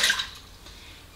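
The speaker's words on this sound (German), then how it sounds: "Als allererstes geben wir Wasser," Water is poured into the mixing bowl of a kitchen food processor for bread dough, a brief bright splash at the start that quickly fades into a faint trickle.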